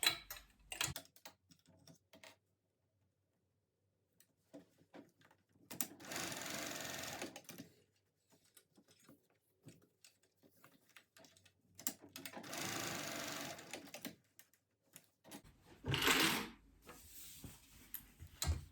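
A sewing machine bastes along the bottom and top edges of a tote bag in three separate runs of rapid stitching, broken by quiet pauses and small ticks of handling the fabric.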